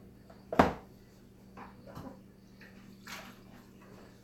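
Aquarium tank water drained from a reef tank being poured out: a sharp splash followed by softer intermittent trickles and drips, quiet and close, no talking.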